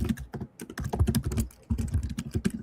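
Rapid, irregular clatter of keys on a computer keyboard, close and fairly loud, with a brief pause in the middle before the tapping resumes.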